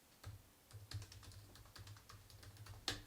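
Typing on a computer keyboard: a quiet, close run of irregular key clicks over about three seconds, ending with one sharper tap, with no talking.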